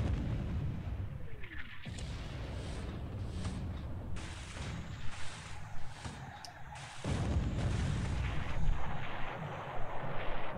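Naval gunfire from 3-inch and 8-inch guns striking the cruiser Kuma in the War in the Pacific game: a series of loud, booming blasts and bursts, each ringing out in turn, with no talking.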